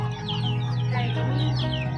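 Chickens cluck in a close, steady chorus of short clucks and squawks over a constant low hum, with no talk.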